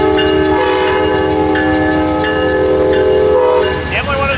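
An Amtrak/BNSF locomotive numbered 190 blasts its horn in a long, loud, steady tone while the train rolls through Carlsbad Village Station, with wheel clatter beneath and the horn easing off near the end.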